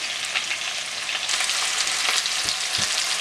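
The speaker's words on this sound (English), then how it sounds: "Potatoes are being fried just with turmeric powder and salt." Potatoes frying in oil with turmeric and salt give a steady, close, dense sizzle throughout, with a few soft stirring knocks near the end.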